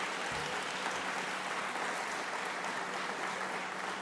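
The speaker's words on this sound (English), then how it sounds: "please give him a big round of applause" Distant, soft applause from an audience, a steady wash of clapping that holds evenly throughout.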